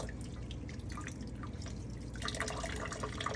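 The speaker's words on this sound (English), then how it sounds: "I'm gonna rinse." Tap water runs steadily over a denture being rinsed at a sink, a continuous close splashing stream with small drips, rising slightly louder toward the end.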